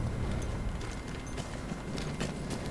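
Horse hooves clip-clopping in the Battlefield 1 video game, a quick steady run of hoof beats with some mechanical rattle, close and continuous, no talk.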